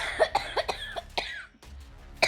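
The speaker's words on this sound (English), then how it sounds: "And he coughs himself to death" A person coughs repeatedly in a rapid, harsh series, about five or six hacking coughs, then a short pause and one final cough, close and loud.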